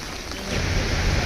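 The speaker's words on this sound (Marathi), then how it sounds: "हे बघा पाऊस किती चालू आहे बघा गाईज." Heavy monsoon rain pouring steadily outdoors, a dense broadband hiss that swells louder halfway through and continues unbroken, with no voices.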